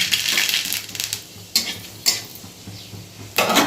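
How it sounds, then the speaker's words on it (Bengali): Dried red chillies and mustard seeds sizzle in hot oil in a kadai, a close steady fizz with sharp bursts of crackle and a few spoon scrapes, no voices. "তেলটা গরমও হয়ে গেছে দুটো শুকনো লঙ্কা দিয়ে দিলাম ফোড়নে আর একটু সর্ষে দিলাম"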